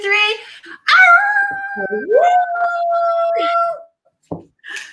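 People imitating a dog's happy howl at a children's story time, voices rising into a long sustained howl, loud and close, with a short yip afterward and brief talk around it.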